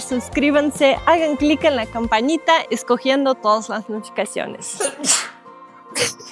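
A single sharp human sneeze bursts out right after a stretch of close, clear talking, with more speech following.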